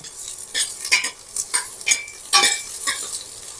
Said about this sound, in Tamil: வெங்காயம் பச்சை மிளகா உள்ளே போட்டுட்டு நல்லா வதக்கணும்